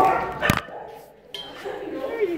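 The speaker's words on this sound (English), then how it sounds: "He's a puppy." A two-year-old German Shepherd gives a sharp yip, then whimpers and whines softly in a rising, drawn-out tone, close by.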